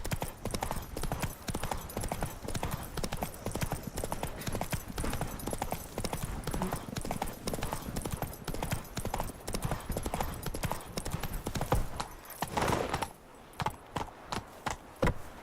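Horse hooves clip-clopping in a rapid galloping rhythm in the video game The Witcher 3: Wild Hunt, steady and close throughout, easing into a few slower separate hoof falls near the end.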